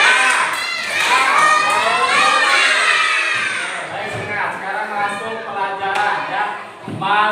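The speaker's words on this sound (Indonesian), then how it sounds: "Coba kita tepuk semangat dulu sebelum kita masuk pelajaran." Schoolchildren in a classroom clapping and shouting a rhythmic spirit chant together, loud and close, with bright massed young voices over sharp claps.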